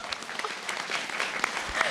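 Live audience applause at a spirit channelling event in Sydney, a brief burst of scattered clapping from a crowd, moderately close and unbroken.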